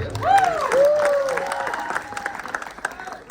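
An audience claps and cheers at a live stage event for a Gujarati film, and the crowd noise carries on through the clip. A speaker's amplified voice rises over the applause near the start.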